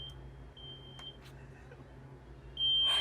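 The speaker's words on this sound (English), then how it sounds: "Oh, my fire alarm." A high electronic fire alarm tone sounds in a few sustained beeps with quiet gaps between, fairly faint over room noise, ending in a brief louder rustle.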